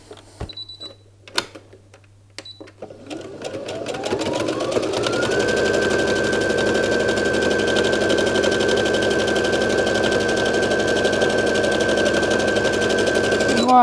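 A sewing machine stitching a seam close to the edge of a fabric Christmas stocking with red thread: a few handling clicks, then the motor whirs up and runs in a loud, fast, steady needle rattle.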